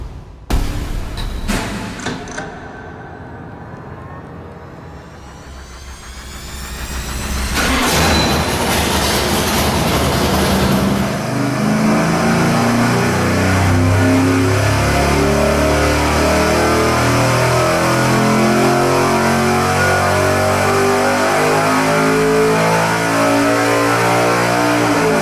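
A 400 engine with a flat tappet cam on a dyno cranks over, catches and revs hard, climbing to a loud, sustained high-rpm roar close by.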